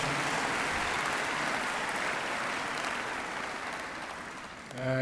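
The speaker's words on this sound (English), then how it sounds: "give them another round of applause, please" An audience at a university welcome day gives a round of applause, dense steady clapping that tapers off near the end before a voice begins.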